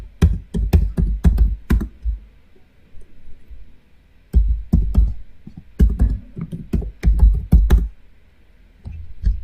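Keys clatter on a computer keyboard as a map name is typed, in quick bursts of close, crisp keystrokes with short pauses between, and no talking.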